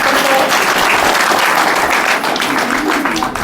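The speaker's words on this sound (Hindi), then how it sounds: "ताली बजाओ बाकी सारे हाथ" An audience at a Hindi spiritual talk bursts into loud, dense clapping that stays steady for several seconds before easing slightly toward the end.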